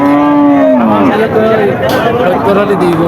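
A crossbred cow with eight teeth lets out a loud, close, drawn-out moo at a busy cattle market in Jashore, with crowd chatter and voices around it.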